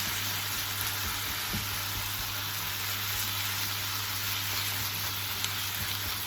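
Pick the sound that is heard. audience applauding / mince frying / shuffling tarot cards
mince frying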